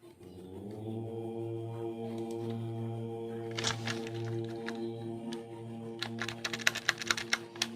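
Clicky keystrokes on a computer keyboard while writing a first C++ program, with sparse taps at first, then quicker irregular bursts of typing toward the end, all over a steady low machine hum.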